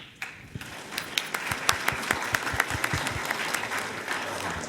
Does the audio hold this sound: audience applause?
yes